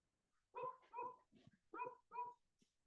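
A person imitates a dog with four short bark-like 'woof' sounds in two pairs, close and clear against near silence.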